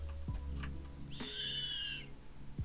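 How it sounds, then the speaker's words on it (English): A bird calls in the Life in the Woods modpack game world: one drawn-out, bright call with a slight falling pitch stands out over a steady low background hum. "The birds are so loud."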